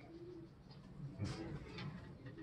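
Soft, low pigeon cooing, a few brief murmured coos over a quiet outdoor background, fairly faint.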